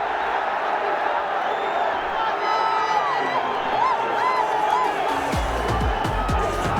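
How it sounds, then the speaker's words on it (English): Stadium crowd at a Bangladesh Premier League cricket match between Fortune Barishal and Durbar Rajshahi cheering a six, a broad sustained roar with whoops and clapping that grows louder toward the end. "That gets the crowd going."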